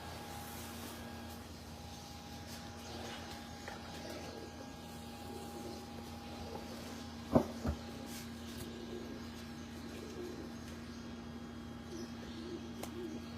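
Pigeons cooing faintly on a Lahore rooftop loft, soft low calls drifting under a steady background hum, with a couple of brief sharp knocks midway.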